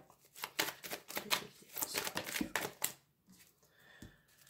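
Tarot cards being shuffled by hand, a quick series of close, crisp riffling flicks and taps in an irregular rhythm, then a pause and a few softer slides of the cards.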